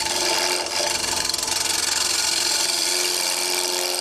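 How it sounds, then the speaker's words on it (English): A lathe tool takes a pull cut across spinning wood, giving a steady, close, rasping scrape that runs without a break for the whole stretch. "I rotate it in until it starts to cut, and then I can pull the tool across."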